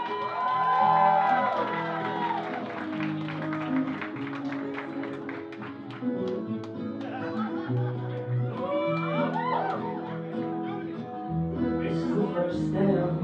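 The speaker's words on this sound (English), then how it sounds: "Let's give them a big round of applause." Wedding guests at a country club reception cheer, whoop and laugh for the bride and groom's first dance, a lively crowd din with music underneath.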